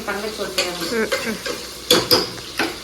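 Onion, green chilli and curry leaves being sautéed in a pan for a Sankara fish curry, with a steady sizzle and a spoon scraping and stirring in uneven strokes, several sharper clatters near the end.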